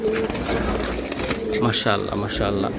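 Pigeons of a fancy Giribaz breed cooing nearby at a market stall, soft repeated coos mixed with other bird calls under steady chatter of people talking.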